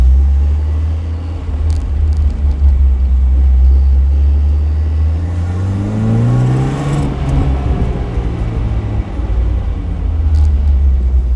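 A 1986 Alfa Romeo Spider Quadrifoglio's four-cylinder engine idles with a steady low rumble, then revs up in a rising whine before settling back to a smooth, continuous drone.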